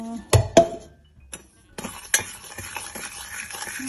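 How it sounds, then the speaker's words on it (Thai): A utensil knocks and scrapes against a pot while sugar and butter are stirred over low heat: a few sharp clinks early, a pause, then lighter continuous scraping and faint sizzling close by. "ค่อยกวนไป ให้น้ำตาลละลาย"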